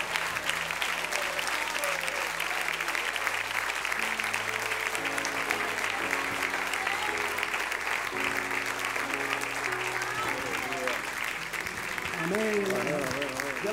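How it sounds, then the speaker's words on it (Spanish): A church congregation gives sustained, loud applause for nearly fourteen seconds, a continuous dense roar of clapping with voices shouting and cheering throughout. "Denle al Señor un aplauso."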